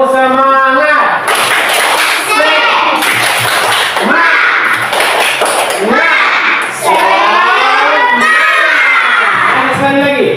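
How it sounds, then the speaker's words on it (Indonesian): Fourth-grade schoolchildren in an Indonesian elementary classroom perform the rhythmic tepuk semangat clapping chant, loud sung voices alternating with bursts of claps in a repeating pattern, close and energetic. "Yuk, tepuk semangat."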